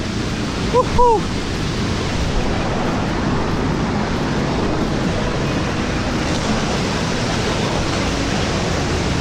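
A steady rushing roar of Mailung Waterfall (Bhange Jharana) near Kathmandu fills the scene, broad and unbroken, with a brief chirp-like sound near the start.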